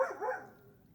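A dog gives a short bark or yelp that trails into a fading whine, fairly close and alone.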